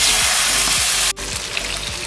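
Chicken hits melted butter in a pan and fries with a loud, steady, close-up sizzle that dips briefly mid-way and then carries on.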